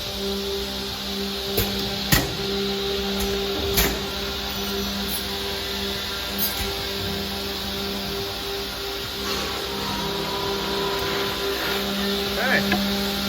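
A Homag Brandt KD 55 automatic edgebander feeds a standard 3/4 inch panel, producing a steady tonal machine hum. Occasional sharp clicks and knocks sound close by.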